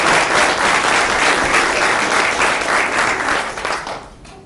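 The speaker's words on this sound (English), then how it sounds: "let's give them all a round of applause" Loud, close applause from an audience at a board of education meeting honours the Teachers of the Year, sustained and then tapering off near the end.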